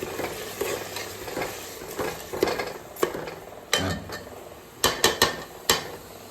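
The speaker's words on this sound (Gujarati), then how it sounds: "ચટણી ચમચો ભરી નાખી દીધી." A spoon stirring garlic chutney into khichdi cooking in a pot in a village kitchen: a low sizzle under scraping and clinking metal, with several sharp knocks of the spoon against the pot toward the end.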